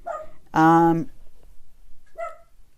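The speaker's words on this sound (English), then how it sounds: "he always barks right when we get started" A pet dog gives one loud bark-like yelp in a home, followed by a few fainter short vocal sounds; no clear talking.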